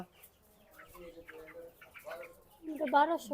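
Chickens on a poultry farm, being weighed on a scale, cluck a few times, rising louder near the end, mixed in with people talking.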